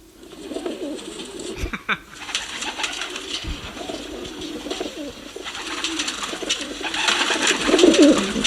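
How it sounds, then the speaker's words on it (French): Pigeons coo repeatedly at close range, soft throaty calls rising and falling over a busy background hiss that grows louder toward the end. "Pigeon."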